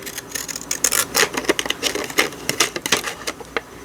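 Decorative scallop-edged craft scissors snip through fabric in quick, irregular crisp cuts, close and fairly loud, with no talking.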